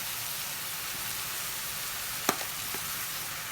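Enchilada filling sizzles steadily as it cooks down in a pan, a soft, continuous frying hiss with one sharp clink of a utensil partway through.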